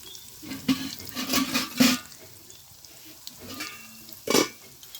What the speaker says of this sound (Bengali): পেঁয়াজ রসুন দিয়ে দিলাম একটু ভাজা ভাজা হলে জিরার গুঁড়ি দিবানি